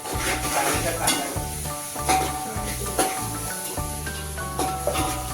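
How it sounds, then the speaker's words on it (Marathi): Crab masala with fried onion being stirred and mixed in a hot pan, a steady sizzle broken by repeated rhythmic scraping strokes, close and loud, with faint background music. "आणि मिक्स करताना आपण थोडंसं याच्यात फ्राय केलेला कांदा घेत आहोत आणि आता हे सगळं मिश्रण मिक्स करून घेणार आहोत"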